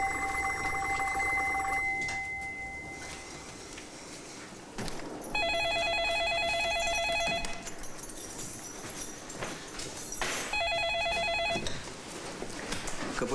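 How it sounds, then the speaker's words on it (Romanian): An old-style telephone bell rings in bursts in a 2007 Romanian feature film, loud and insistent over busy room noise and background voices, ringing several times with short pauses between rings. "Mi-a răspunde careva la telefonul ăla."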